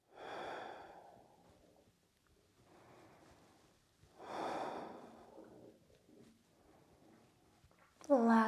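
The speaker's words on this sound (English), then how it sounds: "Stay here for a few breaths." Slow, audible breaths are drawn and released during a held yoga pose in a quiet room, two long exhales with softer breathing between, ending on a brief louder sound.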